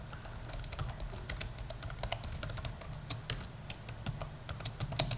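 Rapid typing of Java code on a computer keyboard, close and fairly loud, with a steady stream of crisp key clicks and no voices.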